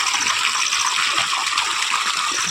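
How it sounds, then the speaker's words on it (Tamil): Water gushes steadily while jasmine plants in a garden are irrigated, a continuous bright rushing splash that holds close and even throughout. "முல்லைப்பூ செடியிற்கு தண்ணீர் இறைத்து கொண்டிருக்கின்றோம்"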